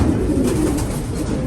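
Pigeon cooing in a breeding loft colony, a low soft rolling coo heard close for a moment over faint background hum, with no talking.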